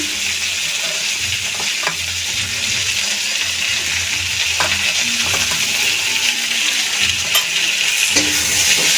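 Cauliflower with ginger paste and ground cumin-green chilli paste sizzles in a pan, a steady bright hiss with intermittent scraping and stirring knocks, close and fairly loud throughout.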